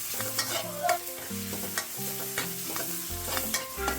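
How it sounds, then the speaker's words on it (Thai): Spatula scraping and stirring chili and garlic in a hot wok with a steady sizzle of frying oil, clattering strokes repeating close up, no talk. "ลงไปผัดให้หอมก่อนเลยครับ"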